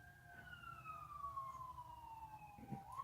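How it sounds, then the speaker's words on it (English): A passing emergency vehicle's siren sweeps in a long, loud descending wail, steady and close, falling in pitch as it moves away, with low traffic rumble underneath and a brief knock near the end. "We're going to just pause for a moment as the siren passes."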